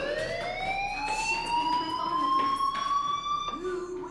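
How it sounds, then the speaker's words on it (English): A fire alarm rings inside the video game Life is Strange, a loud, steady electronic tone that rises slowly in pitch and holds continuously throughout without break. "do you hear that fire alarm? That means you should be outside."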